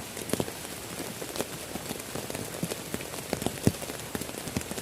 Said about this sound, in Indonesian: Ini hujan udah mulai, udah kesini